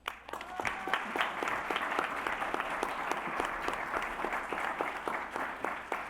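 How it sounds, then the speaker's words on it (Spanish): Audience applause at a conference on integral ecology and the ethics of care, honoring invited speakers: dense, steady clapping from a crowd, sustained for about six seconds at even loudness with no talk over it. "Pido un aplauso para cada uno de ellos y ellas."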